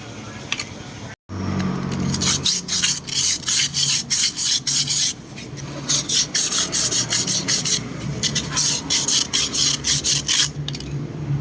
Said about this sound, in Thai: ขัดให้หน้ามันหยาบนะครับ แล้วก็ภายในดุมนะครับผมแล้วก็ใช้กระดาษทรายนะครับผม